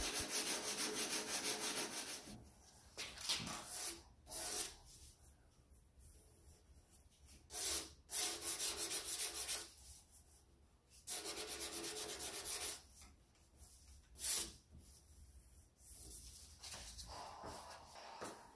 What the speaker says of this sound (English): Now it's time to sand down the body filler and shape it to the contours of the spoiler.